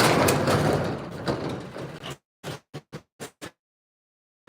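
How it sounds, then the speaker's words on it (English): A shop door slides and rattles before being shut, followed by a quick series of five short, sharp knocks or latch clicks, then silence. "I gotta shut this door"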